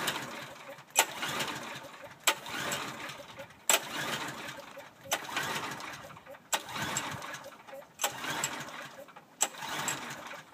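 A Brave log splitter's small gas engine being pulled to start on choke, with about seven repeated pull-cord strokes, each a short sputtering burst, close and fairly loud.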